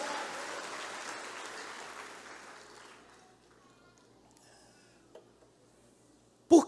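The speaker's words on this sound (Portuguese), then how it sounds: "Dê um aplauso ao Senhor" A church congregation applauds during a Feast of Tabernacles 2023 worship service: a dense, steady wash of clapping that fades out after about three seconds, leaving near-quiet room tone with a couple of faint knocks and a sharp thump at the end.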